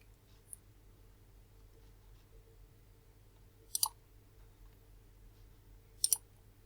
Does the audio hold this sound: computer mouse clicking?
yes